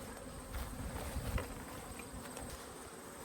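Honey bees hum steadily around farm hives, a continuous low buzz with individual bees passing close now and then, fairly faint and outdoors with no talking.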